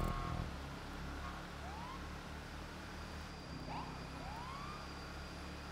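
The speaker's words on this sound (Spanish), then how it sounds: "Ponme la sirena." A police car siren from the video game GTA V Online rises in a few faint, distant wails over a steady engine and road drone.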